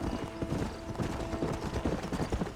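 A horse gallops in Red Dead Redemption, its hooves drumming in a quick, steady rhythm up close against a low game backdrop.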